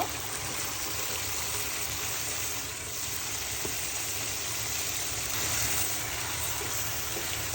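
Cabbage tossed into beef already browned with spices in a pan, giving a steady, moderately loud sizzle and watery hiss that runs unbroken throughout, with no voices.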